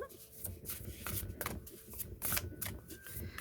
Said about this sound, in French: Alors, on va bien mélanger les cartes.